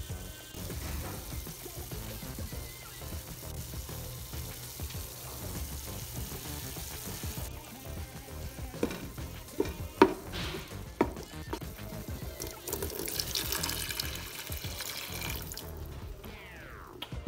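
Fried meat with tomato, carrot, tomato paste and half a cup of water being stirred in a pot for a Venezuelan pasticho lasagna filling: steady wet sloshing and scraping, close and continuous, with no talking.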